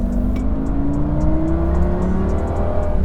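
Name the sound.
naturally aspirated V10 car engine revving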